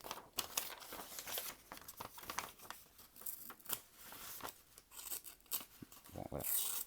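Paper crinkles and tears in short, uneven strokes as a knife blade, tested after sharpening, slices through a sheet, close by and crisp.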